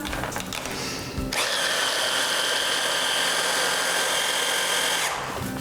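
A blender whirs loudly and steadily for about four seconds, blending muffin batter made with cottage cheese until smooth, then cuts off abruptly, with brief handling noise before and after.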